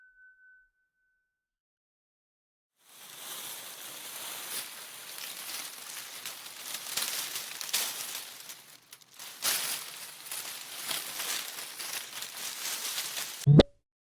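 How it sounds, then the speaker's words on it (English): Leaves rustle in a dense, crackly, continuous stream that swells and briefly dips midway, fairly close, ending with a sharp thump. "Rustling leaves"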